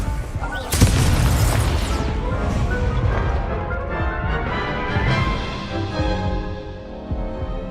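Confringo spell blast in the Hogwarts Legacy video game: a loud, booming explosion with a heavy crash that rumbles on and slowly fades, with voices underneath.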